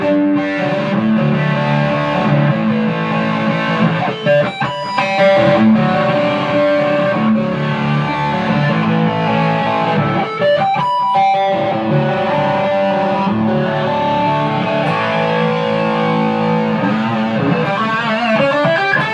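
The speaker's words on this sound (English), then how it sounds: "Now let's rock it up a little bit and hear some overdrive." Overdriven electric guitar, a 1980 USA Cadillac flame top, plays loud, sustained distorted chords and riffs with a touch of effects throughout, with no talking.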